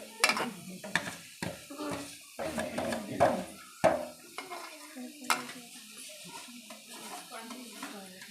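Soya bhurji with curry leaves is stirred in a hot pan, a spatula scraping and clinking against metal in irregular strokes over a soft sizzle, with people talking in between.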